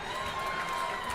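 A crowd of sports fans at a Martha's Vineyard versus Plymouth South game claps and murmurs in a steady, moderately distant wash of applause.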